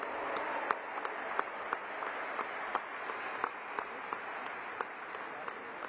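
Round of applause for musicians at a high school graduation commencement, a large crowd clapping steadily at a distance in a big hall, fairly quiet, with a few sharper individual claps standing out.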